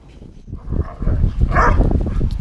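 Dogs bark and yip close by in short, irregular bursts, loud and rough, with some whimpering between them.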